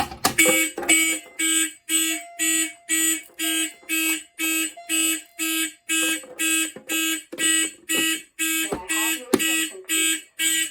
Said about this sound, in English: The signal you have just heard indicates a report of a fire in this building.